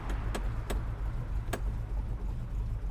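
The engine of a General Lee car with a throttle fault runs with a low steady rumble, while a few sharp clicks and rattles sound nearby.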